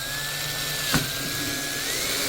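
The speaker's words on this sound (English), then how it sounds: "I'm going to drill it." A power drill boring a hole through a non-self-righting Dominator boat hull whines at a steady, sustained pitch that rises slightly near the end, with one short knock partway through and no talking.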